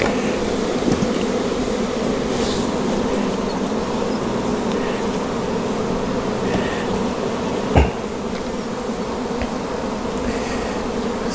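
A dense, continuous hum of many honey bees buzzing around a hive on a warm day, steady throughout, with a brief knock partway through.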